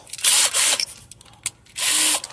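A cheap cordless power drill whirs in two close, loud bursts of about half a second each, separated by a quiet gap with a brief click, then trails off.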